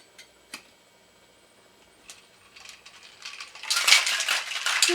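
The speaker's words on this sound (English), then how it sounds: "Remember to shake it in a circular motion so everything gets mixed together" A cocktail shaker holding blueberry juice and rum alternative, first a few light clinks of ice, then a building, steady rattle of ice being shaken hard in the final seconds.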